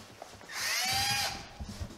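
Power drill briefly run in a garage during car work, a close high whine that spins up, holds for under a second and winds down, with faint handling noises around it.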